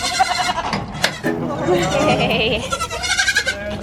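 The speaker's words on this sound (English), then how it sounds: "now it's time to let the baby goats out" Baby goats bleat repeatedly in shaky, high cries, close by, with a person's brief call mixed in.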